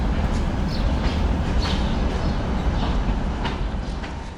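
An old passenger railway carriage rolls at Sviyazhsk station, with a steady low rumble and rhythmic clickety-clack of wheels over rail joints, interior sounds close and continuous.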